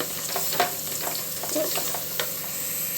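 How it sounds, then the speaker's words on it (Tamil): Onions sizzle in a hot pan while a utensil stirs them, with soft scraping strokes over a steady frying hiss. "ரெண்டு நிமிஷம் வதக்கணும்"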